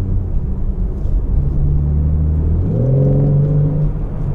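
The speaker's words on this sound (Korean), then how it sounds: "바로 2000rpm서부터 팝콘 사운드와 배기 사운드로 배기 사운드가 모두 우리가 원하는, 남자들이 그토록 원하는 M 감성으로 제대로 바뀌어주는 모습을 볼 수가 있습니다" BMW M4 Convertible facelift idling and revving in engine sport mode, a deep, loud exhaust rumble that swells into a rising drone near the end.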